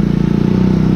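A Honda Little Cub motorcycle in third gear labors up a hill, its small engine droning steadily with a fast, even pulsing putter, close and continuous throughout.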